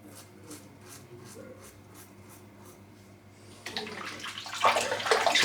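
Running water rinsing a Pearl Flexi razor, starting as faint soft trickling with quiet rhythmic taps, then swelling into a louder, splashing stream as the blade passes under the flow.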